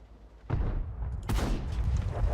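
Tank cannon fire in the World of Tanks video game: a sudden heavy boom at about half a second, followed by a second sharp, bright blast a moment later, both loud and close with a rumbling low tail.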